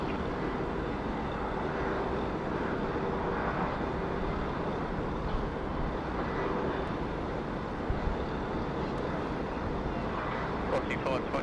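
A large airplane rumbles with a steady, broad roar at Sydney Airport, heard from a distance, while radio voices talk over it.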